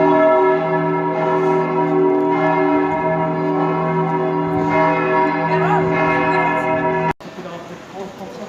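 Church bells of St. Pierre Cathedral in Geneva's Old Town ring out loud and sustained, their layered tones lingering before cutting off abruptly, with people talking faintly underneath.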